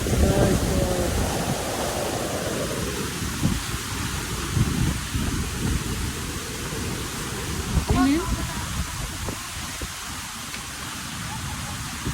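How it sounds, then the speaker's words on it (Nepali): A steady roar of rushing water from Lauke Waterfall fills the scene throughout, with a person talking over it for a few seconds near the start. "यो चाहिँ लौके झरना है"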